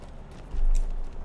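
Goat mount hooves clip-clop over ground in Lord of the Rings Online, a brief low thudding burst of steps heard close and moderately loud, with no voices.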